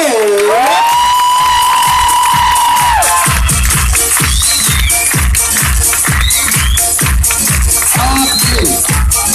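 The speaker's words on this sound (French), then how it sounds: "on applaudit très très fort, monsieur Mamadou." A crowd at a live evening show at a Djerba hotel claps in a steady rhythm and cheers, with occasional whoops over a loud, continuous din.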